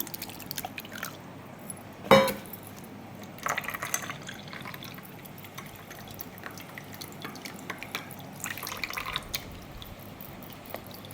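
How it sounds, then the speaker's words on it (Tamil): Banana leaf juice for banana leaf halwa is poured through a strainer, giving quiet, scattered drips and soft trickles over low background noise, with one sharper splash early on and no talking. "வடிகட்டி வச்சு நம்ம தண்ணியை மட்டும் இப்போ ஃபில்டர் பண்ண போகிறோம் இதில் ஊற்றிக்குவோம்"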